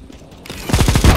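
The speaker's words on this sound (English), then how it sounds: "See? Shotgun." Shotgun firing in Counter-Strike: Global Offensive, a quiet start giving way to a string of loud, heavy blasts in quick succession, close and alone with no talk.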